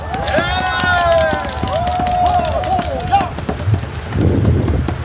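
Large outdoor crowd at a Korean election campaign rally in Jeju, cheering and clapping in a loud, steady mass of noise, with whistles and shouts rising over the applause and a swell of low rumble near the end.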